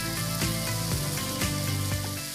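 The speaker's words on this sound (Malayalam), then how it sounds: "ബട്ടറിൽ നന്നായിട്ട് അത് മിക്സ് ചെയ്തെടുക്കുകയാണ്" Mixed vegetables sizzle in butter with chilli sauce in a pan, a steady loud frying hiss with rhythmic stirring scrapes roughly every half second.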